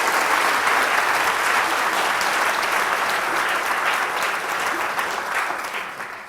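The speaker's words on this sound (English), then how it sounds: "If you could give them a great round of applause." An audience at an LSE lecture and book launch applauds with a full, sustained round of clapping that stays strong throughout and tapers only slightly at the end.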